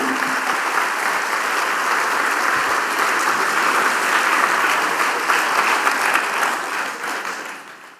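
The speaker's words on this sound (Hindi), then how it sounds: "उनके लिए आपकी तालियां, आपकी करतल ध्वनि बजे" Sustained audience applause at a public lecture in Varanasi, a dense, even roar of many hands clapping for about eight seconds before fading out at the end, with no talking.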